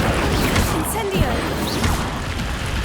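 An Incendio fire spell in Hogwarts Legacy erupts as a loud close roar of flame with whooshing sweeps and a sharp thud, steady and dense throughout.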